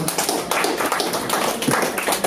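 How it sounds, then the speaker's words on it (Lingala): An audience applauding at a live event, a dense, steady patter of many hands clapping close by, unbroken for the whole stretch and without speech. "Donc je vous demande de les applaudir encore une fois."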